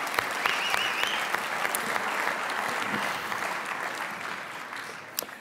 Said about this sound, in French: Je vous applaudis.